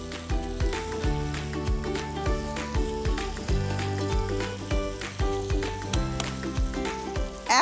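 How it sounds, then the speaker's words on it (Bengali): Chicken and mixed vegetables seasoned with black pepper and garam masala sauté uncovered in a pan. A dense, continuous sizzle runs throughout, with repeated stirring scrapes close by. "এখন এটা আমি ঢাকা ছাড়া অবস্থাতেই রান্না করব"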